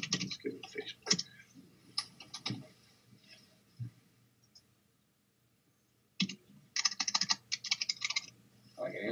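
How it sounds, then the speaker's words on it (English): Bursts of rapid keyboard typing, crisp clicks in quick runs separated by a quiet pause, recorded close with a faint voice at times. "I can hear you typing."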